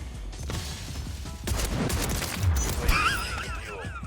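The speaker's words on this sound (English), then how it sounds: "Next up, we have the horrifically toxic Reclaimer 18 shotgun." Reclaimer 18 shotgun firing in the video game Warzone, a couple of heavy blasts mixed with mechanical handling noise over continuous game ambience.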